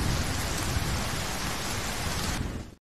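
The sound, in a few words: heavy rain and thunder in a film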